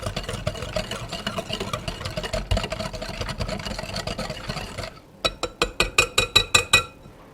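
A whisk beats chocolate crinkle cookie batter in a bowl with a rapid, steady scraping churn for about five seconds, then about nine sharp, evenly spaced clinks ring out close by, with no talking.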